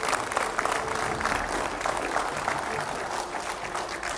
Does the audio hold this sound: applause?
yes